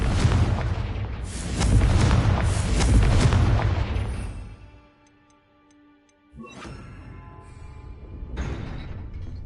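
Confringo blasting spells explode in a Harry Potter video game as booming, rumbling blasts that swell loud and then fade to near silence before another sharp impact and later a fainter hit, with no one talking.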